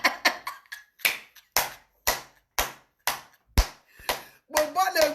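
A few distinct hand claps ring out one at a time in a slow, uneven rhythm, sharp and close, with a voice speaking near the end.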